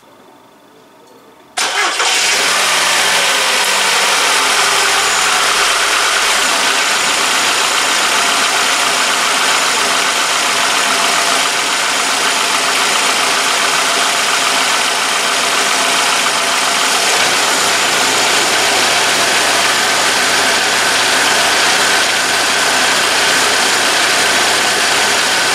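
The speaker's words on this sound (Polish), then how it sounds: "Odpalę samochód, włączę klimę i wpuszczę całą zawartość puszki dalej" A Ford Galaxy's engine cranks and catches in a garage during an air-conditioning recharge, then settles into a loud, steady idle that runs on unbroken.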